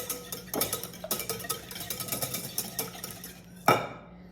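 Eggs whisked with an oversized whisk in a bowl, a close rapid series of light metallic clinks and taps at an uneven rhythm, ending with one sharper knock against the rim.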